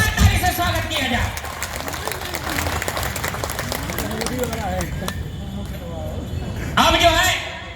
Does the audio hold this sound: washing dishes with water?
no